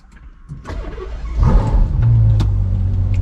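A Ferrari GTC4 Lusso V12 cranks and fires up nearby, the starter whirring briefly before the engine catches and settles into a loud, steady idle.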